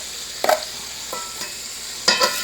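Chopped onion tossed into a hot pan to saute, a few scattered sizzles and stirring scrapes breaking out over a quiet kitchen background.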